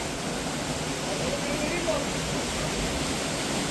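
Kaynarca waterfall, the village's second cascade near Biga in Turkey, roars as a loud, steady, broadband rush of falling water, close by and unbroken throughout.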